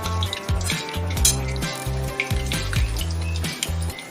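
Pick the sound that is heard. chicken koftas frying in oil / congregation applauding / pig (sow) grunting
chicken koftas frying in oil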